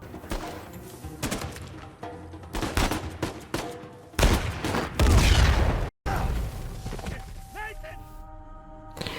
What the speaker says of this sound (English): That rocket launcher and sniper combination is not fair.